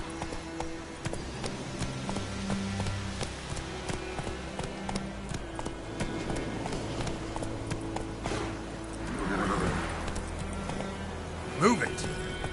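Horse hooves clip-clop in a steady rhythm in The Witcher 3, running under background game music, while a person speaks over it and the horse briefly snorts near the end.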